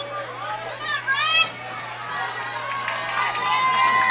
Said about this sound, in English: Nice crowd out here on Saturday afternoon to cheer on the Panthers.